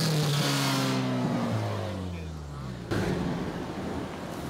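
A car engine with an aftermarket intake and MBRP 3-inch exhaust revs up and winds down with a deep throaty roar and falling pitch, followed by a rough idle and further engine noise.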